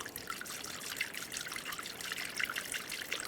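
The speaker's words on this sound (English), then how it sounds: "Using a funnel, you can add the appropriate coolant." Coolant, a 50-50 mix of water and coolant, pours through a funnel into the cooling system of a 2009-2013 BMW 328i xDrive with a 3.0L engine during a thermostat replacement, making a soft, steady trickling close by.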